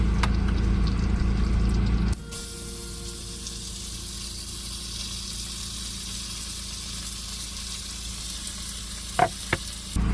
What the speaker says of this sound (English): You can hear the butter sizzling away in the Dutch oven.